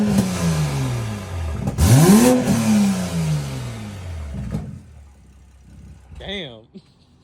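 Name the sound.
Toyota Supra mk5 engine revving with open dump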